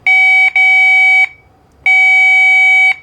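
Three loud, steady electronic beeps from a multimeter in continuity mode, probes on the blue and red wires of a Peg Perego John Deere Gator toy ride-on motor circuit, two short tones close together then a longer one after a pause.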